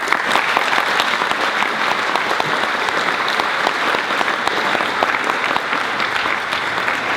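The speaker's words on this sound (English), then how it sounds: "I'd actually like to ask the rest of the school to welcome them with a very warm," A school welcome assembly audience claps in a dense, sustained round of applause, loud and continuous throughout without any speech.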